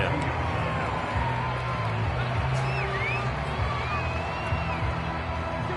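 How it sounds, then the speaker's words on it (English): A stadium crowd in a PS4 football game at a Steelers matchup keeps up a dense, steady roar and murmur, with faint whistles and whoops rising now and then. "The crowd may be losing just a little bit of the edge after back-to-back punts."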